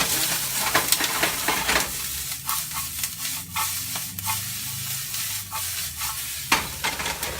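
Red pepper sizzling in a hot pan, close and loud, with repeated scraping strokes of stirring over a steady frying hiss, no voices.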